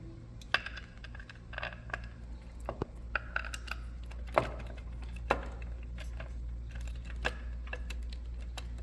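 Metal bolts clicking and tapping as they are fitted by hand into a Harley Twin Cam rocker box, a scattered series of sharp light clinks and small knocks over a low steady hum, close and fairly faint.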